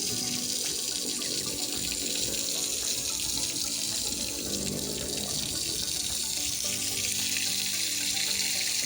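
Tap water runs steadily and loudly into a bathing tub for backyard farm ducks, a continuous broadband splashing rush with no talk over it.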